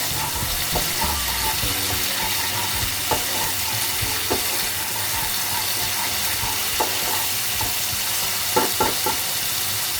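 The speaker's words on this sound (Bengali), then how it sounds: "তেল ছেড়ে দিয়েছে। আর একটু ভালো করে কষাতে হবে।" Fish curry masala of mashed bata fish paste cooks in hot oil in a pan, a steady sizzle and frying hiss running throughout, with occasional spoon scrapes and stirring knocks punctuating it up close.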